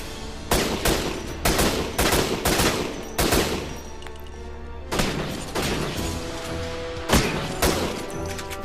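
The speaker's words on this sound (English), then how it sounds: "Holy crap, one shotgun blast and my flak jacket's gone" Shotgun blasts and gunfire from the video game Syphon Filter: The Omega Strain, with a warehouse-district mission setting: loud repeated booming shots in bursts, several close together early, then spaced blasts later, with no talking.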